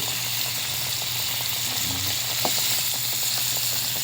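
Milkfish (bangus) fries in a pan with a steady, dense sizzle of crackling oil, one brief sharper pop near the middle, with no voices.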